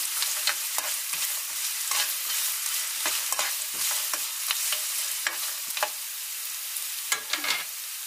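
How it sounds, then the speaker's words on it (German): Carrots braise in a pan for a vegan bolognese, an even hissing sizzle punctuated by frequent short scrapes and clacks of stirring, close and without talk. "Jetzt können wir die Karotten reingeben. Ich schmoren das also ein bisschen ein."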